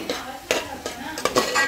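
A mixture with curry leaves stirred in a pan on a gas stove turned low, with several distinct scraping and clinking strokes of a utensil against metal at an uneven rhythm, close by and without talk.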